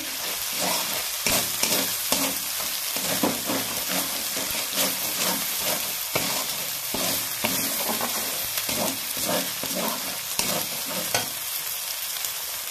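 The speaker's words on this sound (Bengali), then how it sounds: "এটা তো ভালো ভাজা হয়ে গেছে।" Ground green pea filling for kochuri sizzling loudly in a pan, with repeated scraping and stirring strokes over a constant hot-oil crackle, close up.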